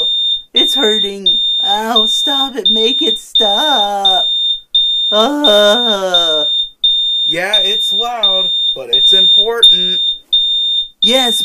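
A loud smoke alarm beeps in a steady, piercing high-pitched pattern throughout, while several people talk and exclaim over it.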